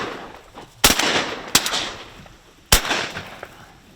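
Three sharp shotgun blasts crack out during a public-land duck hunt in South Dakota, the first two close together and the third after a pause, each loud and near with a short echoing tail.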